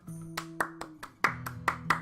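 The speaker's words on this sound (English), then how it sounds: "Everyone clap." About seven sharp claps at a loose, even pace sound over a low, steady electronic drone, from a wedding scene in the modded video game RimWorld.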